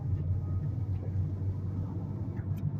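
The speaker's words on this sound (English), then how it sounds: "So we're driving here." A car driving along a road, its steady low engine rumble and road noise continuous and close throughout, with no voices.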